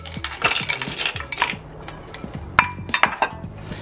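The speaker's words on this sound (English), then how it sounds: "Cap that off with a little more ice." Ice cubes go into an Old Fashioned cocktail glass with a cluster of bright clinks and clatters, close up, then a few more scattered knocks as the cubes settle; no talking.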